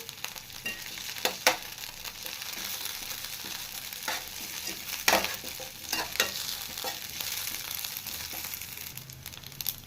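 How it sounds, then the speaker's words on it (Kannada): Mint and curry leaves frying in a pan for a peanut chutney, an even hiss of hot oil broken by sharp stirring clatters and scrapes, close and fairly loud. "ಅರ್ಧ ಹಿಡಿ ಆಗುವಷ್ಟು ಕರಿಬೇವು ಸೇರಿಸ್ತಾ ಇದ್ದೀನಿ"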